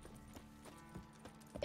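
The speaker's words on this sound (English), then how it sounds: "We're just gonna have to ride our horse." Horse hooves while riding in Skyrim, a soft, faint clip-clop of several evenly spaced footfalls at a steady trotting rhythm.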